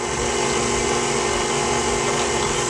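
An electric hand mixer runs steadily on low speed through red velvet cupcake batter with vanilla, buttermilk and red color paste, giving a continuous even motor whir from start to finish with no talking.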